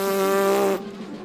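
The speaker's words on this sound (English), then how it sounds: "You can probably already hear the players from the brass band warming up behind me by buzzing on their mouthpieces" Brass band players warm up by buzzing on their mouthpieces, a steady reedy drone with strong layered harmonics. It holds loudly for under a second and then cuts off abruptly, leaving a quiet room.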